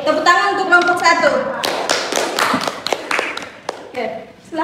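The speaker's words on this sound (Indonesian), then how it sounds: "tepuk tangan untuk kelompok 1." Students in a classroom applaud after a group presentation: a few seconds of dense, loud hand clapping following a voice, with a teacher speaking at the start and end.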